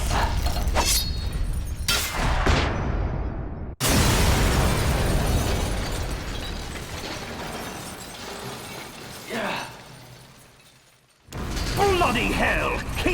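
The Ray Dome being blown apart in the Metal Gear Solid graphic novel game: loud, continuous blast and rumbling debris noise, abruptly cut and restarted, slowly dying away before another heavy burst erupts.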